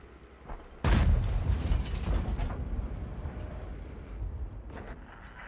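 A heavy tank cannon blast in World of Tanks booms suddenly, followed by a rumbling decay and mechanical clanking as it fades.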